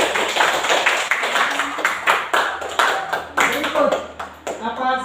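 An audience claps in a group, a dense run of overlapping hand claps that stays loud and fairly close, with some uneven bursts before it thins out at the end.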